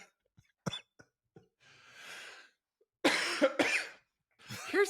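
Several sharp coughs from a person close by, with a short burst of rushing breath or laughter between them, then a dense cluster of loud coughs and sputters near the end.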